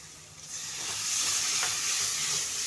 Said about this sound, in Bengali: নাড়াচাড়া করে আমি এবার একটু জল দিয়ে দেব।